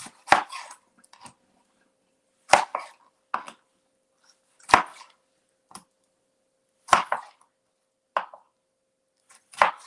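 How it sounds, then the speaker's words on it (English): A knife chops produce into quarters on a cutting board for an African-style salsa, with about five sharp, spaced thuds and a few lighter taps in between, close and fairly loud, with no talking. "Cut it in quarters and add it."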